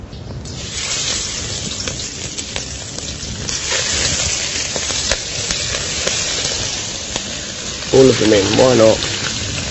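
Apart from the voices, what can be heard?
prawns sautéing in hot vegetable oil in a pan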